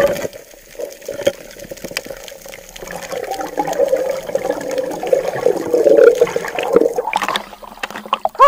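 Water churns and splashes steadily during a spearfishing dive, the sound building in the middle and staying close and fairly loud with no talk over it.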